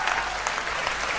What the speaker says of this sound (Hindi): दोनों हाथ उठा के तालियों का महोत्सव करना